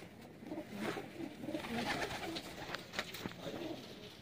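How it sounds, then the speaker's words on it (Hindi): Golden dab pigeons coo softly in a loft, with soft, rolling bird calls overlapping at a moderate distance and continuing steadily throughout. "ये दुबई वाले भाई के डब वाले कबूतर हैं।"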